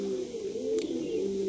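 Domestic pigeons feeding on a calcium-rich eggshell mix give low, continuous cooing throughout, a steady near murmur with a brief higher chirp near the end.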